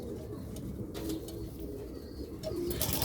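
Pigeons cooing in a loft with young birds, including a white-tailed iridescent one and an Arab pigeon, giving soft repeated low coos close by amid faint background rustle.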